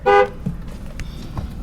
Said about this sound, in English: Got your horn.